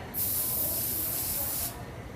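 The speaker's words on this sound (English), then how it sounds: "Then we will spray our pan." A single sustained hiss of cooking spray onto a foil-lined pan lasts about a second and a half, close and loud, then cuts off.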